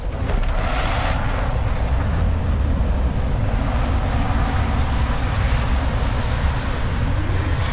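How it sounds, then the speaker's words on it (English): Spaceship retro thrusters fire during a landing in Starfield, a loud, continuous low roar with broadband rumble that holds steady throughout without pause. "Landing struts primed. Retros firing."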